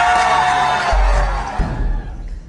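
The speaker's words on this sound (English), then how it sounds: "A crowd gathered outside the clothing store Fashion Bug." A crowd gathered outside a Fashion Bug clothing store in Sri Lanka during unrest, with loud mixed shouting and cheering voices that fade toward the end.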